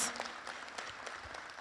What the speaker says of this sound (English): Let's give her rounds of applause.